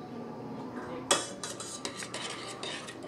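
Ingredients being stirred together in a pot, with a sharp utensil clank on the pot followed by repeated scraping and clinking of a spoon against metal, close and moderately loud.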